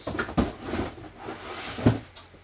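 New drawers slide and bump open or shut a couple of times, quiet and near, with soft rattles and knocks between.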